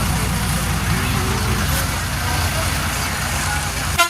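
Engine drone of a bus heading to Tirupati, a steady low rumble and road noise throughout from inside the vehicle, with a brief knock at the end.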